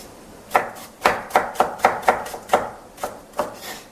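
A knife cuts burdock root into slices on a cutting board, giving about ten crisp, evenly spaced chops that ring out close and clear with no talking.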